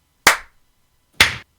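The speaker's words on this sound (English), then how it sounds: "should we do a sync clap real quick?" Two people clap once together for a sync clap, giving two sharp, close, loud claps about a second apart with silence between them.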